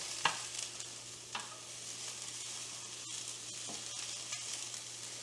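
Egg fried rice sizzles steadily in a hot pan, a soft, even hiss broken by a few scraping stirs of a utensil, close up and with no voices.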